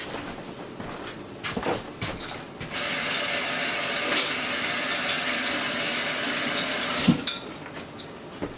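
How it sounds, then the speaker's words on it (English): A kitchen water tap runs steadily into a sink for hand washing, a close, even rush lasting several seconds, framed by light clatter and handling noises before and after. "and wash my hands"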